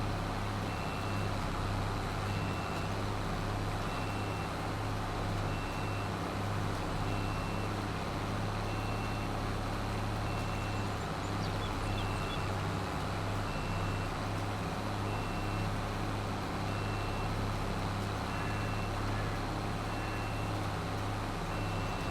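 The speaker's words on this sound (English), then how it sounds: "I don't know what that beeping is. It's getting on my nerves" Faint, evenly spaced beeping repeats over a steady low engine drone from farm machinery working a field in Farming Simulator 22, with no talking.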